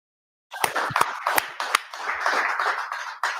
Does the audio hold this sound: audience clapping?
yes